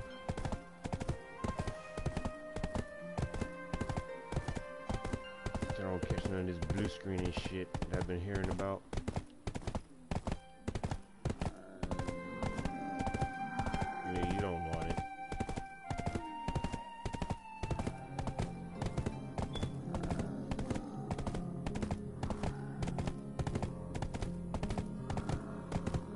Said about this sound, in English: While I'm sitting here riding on my goddamn horse